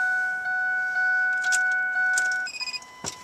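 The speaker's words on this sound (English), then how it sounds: "We're going to put the key in the ignition" Keys jangle and click as a key slides into a Ford Expedition ignition, with a steady chime tone beeping in the background and a few short metallic rattles near the end.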